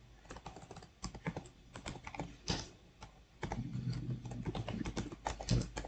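Fingers typing on a computer keyboard, quick irregular clicks and key taps close up, falling into a sparse patter at first and then a denser run of strokes over a faint background hum, with no talk.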